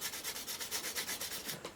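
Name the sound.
polishing a scythe blade edge with a honing block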